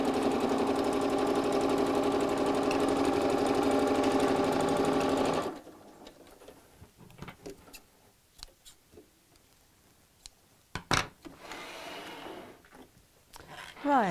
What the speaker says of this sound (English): I'm just going to top stitch straight across the hole